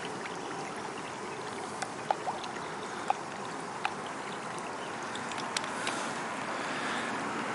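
Water flows steadily through a garden pond's working boat canal lock chamber as levels equalize, a constant close rushing wash with a few faint clicks and drips on top, no voices.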